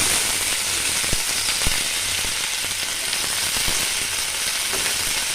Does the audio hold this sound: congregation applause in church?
no